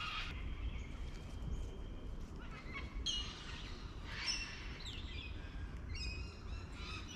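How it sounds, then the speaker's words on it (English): Scattered bird chirps and calls ring out over a steady low rumble of outdoor ambience, several short tweets coming and going at moderate distance. "You hear the sound of the birds."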